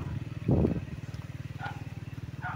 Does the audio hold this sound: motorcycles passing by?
yes